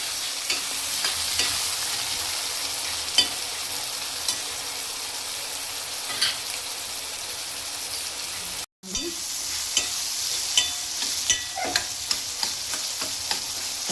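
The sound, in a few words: sautéing tomatoes with salt in a pan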